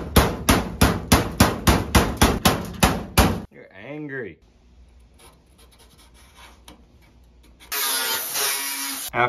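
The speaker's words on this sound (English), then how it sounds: "After lots of hammering," Rapid hammer blows on sheet metal fabricating a custom fin for a 1969 Dodge D200 Crewcab, about a dozen sharp clanging strikes in a steady rhythm, followed by quieter scraping and a loud harsh rasping noise.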